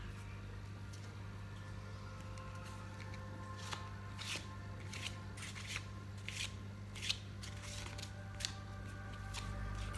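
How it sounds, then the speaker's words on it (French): Tarot cards being shuffled by hand, soft papery riffles and light taps repeating unevenly over a steady low room hum, faint and close, with no talking. "le mélange des cartes, c'est un mélange de tarologue et non pas de joueur de poker"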